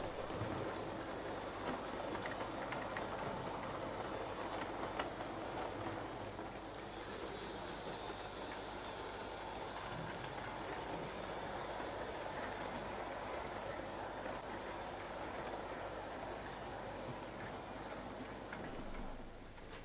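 A small model train hauled by an H Class steam locomotive model runs continuously on a layout with a steady, faint mechanical hum and light rattling of wheels over track.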